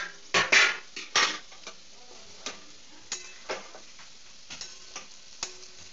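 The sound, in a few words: metal plate lid lifted off a cooking pan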